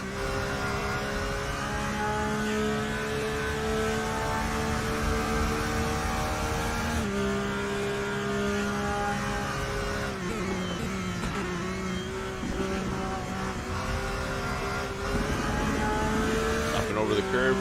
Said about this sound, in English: on board with your race leader, Victor Paz, the black and red 911 Porsche